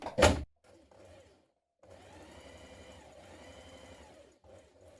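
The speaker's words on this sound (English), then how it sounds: "So let's do that now. So a line of stay stitching on both sides." Sewing machine stay stitching around the neck edge of a blouse, a soft, steady hum with a brief pause partway through, preceded by a sharp close click and quiet handling noises.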